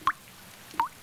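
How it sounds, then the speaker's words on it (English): Rain dripping on a hat in a cartoon, two crisp separate drip sounds about three-quarters of a second apart, close and clear over near silence. "I can hear the rain drip-dropping on my hat!"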